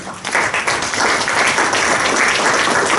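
Dense applause from an audience at a panel discussion event on Illinois, loud and sustained for about three seconds after a brief quieter start.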